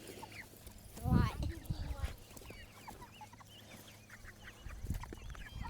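Meat chickens on fresh grass cluck and murmur in a loose, scattered flock, with a louder burst of calls early on, while a person talks nearby.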